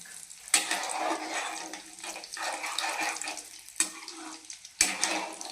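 Urad dal and cashews sizzling and frying in hot oil while being stirred, a steady crackling hiss broken by a few sharper scraping stirs, close and fairly loud with no talking.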